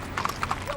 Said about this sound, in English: Riders get their horses warmed up as dawn approaches